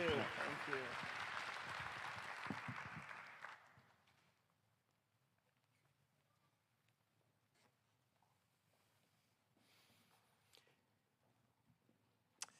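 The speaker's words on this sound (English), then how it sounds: "they deserve a very big round of applause as we leave the stage" A civic State of the City audience in Monroe, Louisiana claps loudly and densely for a few seconds, then the applause stops abruptly, leaving a quiet room with scattered small noises.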